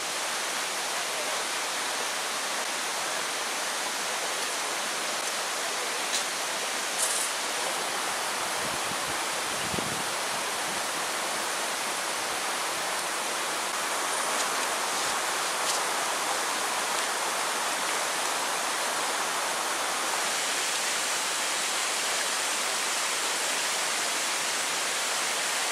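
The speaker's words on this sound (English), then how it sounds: "I'm crossing a stream, a good water source." Water rushes steadily over a stream along a wooded lakeshore hiking trail at Pictured Rocks, Michigan, a broad, constant wash of sound with no voices, loud and unbroken throughout.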